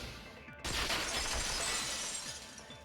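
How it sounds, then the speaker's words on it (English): A vase shattering in the video game Danganronpa 2: Goodbye Despair, a sudden loud crash of breaking glass or ceramic that spreads into a sustained, bright scattering of shards lasting a couple of seconds. "If it wasn't the window, then what broke to make that sound? A vase."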